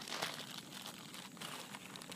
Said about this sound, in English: A big plastic bag.